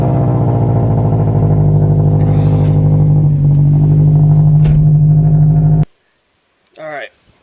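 A loud car running on E85, fitted with a full exhaust and a Mishimoto intake, idles with a deep, steady droning rumble close by before cutting off abruptly, followed by a brief voice.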